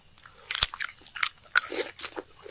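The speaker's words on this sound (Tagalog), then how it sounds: "Malutong sa labas itong buto" Close, sharp crunches as something hard is bitten and chewed, a few distinct cracking bites in quick succession with no talking.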